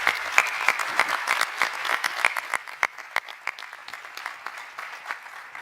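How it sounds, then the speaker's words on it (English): An audience gives a round of applause for a panel at a digital wellbeing summit, a dense, steady patter of many hands clapping with a few sharper claps standing out, slowly thinning toward the end. "a round of applause for this panel"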